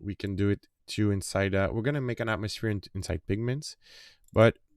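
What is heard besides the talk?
None of the usual background noises is heard.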